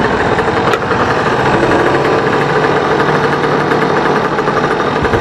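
An UberScoot 2x 63cc scooter's small two-stroke engine runs close and loud. It holds a steady, buzzing rhythm at constant revs, with no voices over it.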